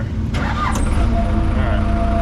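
An equipment unit's engine is cranked and catches, settling into a steady idle rumble with a faint tonal whine. Spoken voices can be heard over the start.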